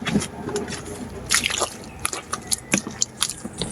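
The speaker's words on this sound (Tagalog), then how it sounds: "Saka hugasan natin ng tubig." Water splashes and drips as fire-charred food is rinsed of soot by hand, with irregular wet squishing and trickling close by.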